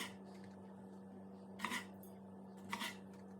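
A knife cuts cherry tomatoes into quarters on a board, two distinct close crisp chops about a second apart over a steady low hum.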